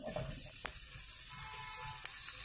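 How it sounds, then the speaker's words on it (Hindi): Potatoes fry in a kadhai of oil for a paneer and potato sabzi, giving a steady close sizzle with faint clinks and stirring noises and no talking. "अभी मैं पटाटो को फ्राई कर लेती हूँ"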